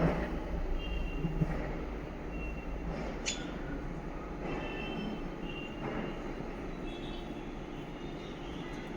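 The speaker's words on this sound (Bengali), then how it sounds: "আমাদের এখানে মেট্রোর কাজ হচ্ছে এত আওয়াজ এত আওয়াজ" Nearby metro construction work fills the air with a continuous low, heavy rumble, steady and fairly distant, marked by a brief high metallic squeal and occasional faint clanks.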